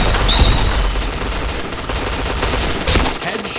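Gunfire in the shooter game Point Blank, with dense rapid bursts of shots that run almost continuously, loud and close throughout.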